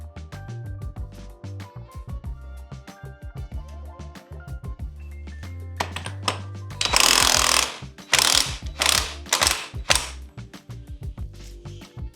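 A wrench ratchets and clicks as the front sprocket bolt comes off a GSXR750 motorcycle, close mechanical clatter with a burst of heavy rattling impacts midway over a steady low hum.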